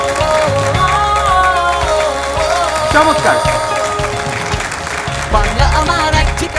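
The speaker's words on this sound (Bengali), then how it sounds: "জোরে করতালির মাধ্যমে সামিরাকে আমরা অভিনন্দন জানাচ্ছি।" Audience at a Bengali language festival award ceremony applauding the crowned winner, steady loud clapping throughout, with music and a brief voice of praise heard over it.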